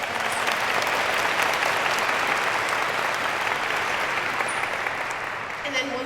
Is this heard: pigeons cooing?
no